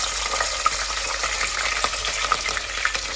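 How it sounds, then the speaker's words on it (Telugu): Green chilli pieces fry in hot oil, giving a steady close sizzle with scattered crackles and pops. "ఇది కూడా చక్కగా నూనె కాగింది. ఫస్ట్గా మనం ఏం చేద్దామంటే పచ్చిమిరకాయ ముక్కలు వేసుకున్నాం."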